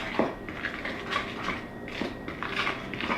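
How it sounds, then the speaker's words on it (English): Dry ingredients with salt stirred in a bowl while making Christmas cookies, giving soft repeated scrapes and light clinks of utensil against the bowl, close and moderately quiet. "we'll give that a little stir just to combine the dry ingredients"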